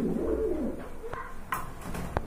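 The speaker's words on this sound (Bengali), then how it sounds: "এই এত বড় বিগ সাইজের কবুতর অনলি 1500 টাকা" Big imported pigeons coo in low, throaty calls, close by and clear, with a few short sharper bird notes and rustles toward the end.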